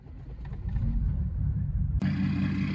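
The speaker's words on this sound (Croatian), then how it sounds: "evo sam ga sad upalio i slušajte kako radi" Mercedes diesel car engine fitted with a new exhaust, running with a steady low rumble that grows louder and rougher partway through, close by with no talk.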